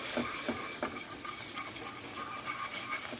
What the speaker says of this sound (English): I'm going to get my PC whisk, and I'm going to stir that in